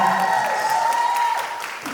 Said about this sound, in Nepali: केही जोरदार तालीले उहाँको हौसला बढाइदिनुमा हार्दिक अनुरोध गर्न चाहन्छु।